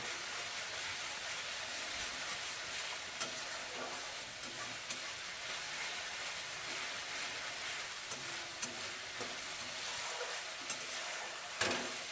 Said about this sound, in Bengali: মশলা আমার দেয়া হয়ে গেছে দিয়ে ভালো করে কষে নিচ্ছি মশলাটাকে